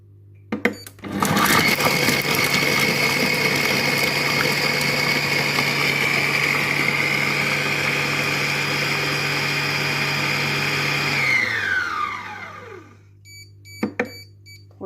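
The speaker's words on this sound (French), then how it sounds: "je ferme mon robot et je vais mettre le programme haché" Compact Cook Pro food processor with a four-blade knife running its chop program on carrots and courgettes, a loud, steady whirring motor for about ten seconds that winds down, with a few beeps after.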